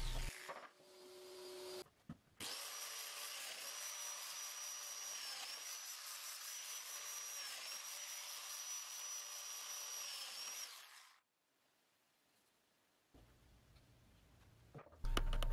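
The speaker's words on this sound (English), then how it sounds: "And then I could cut a whole bunch of holes with the domino." A Festool Domino joiner cuts a series of mortises into wooden legs, a loud, steady high-pitched whine of the spinning cutter running about nine seconds after a brief start, then falling away to quiet.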